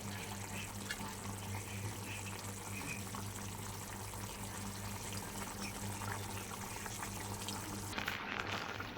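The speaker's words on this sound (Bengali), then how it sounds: "মাছগুলো দিয়ে একটু ফুটিয়ে নেব" A rohu fish and cauliflower curry simmering in a pot, a steady soft bubbling and hissing with a faint low hum, continuous and fairly quiet, ending with a brief clatter.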